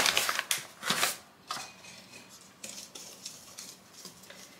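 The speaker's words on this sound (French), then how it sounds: "Et on mélange bien." A utensil scrapes and clinks around a bowl as cake batter is mixed by hand, a series of close, irregular knocks and scraping strokes that slowly soften and settle into a lighter rhythm.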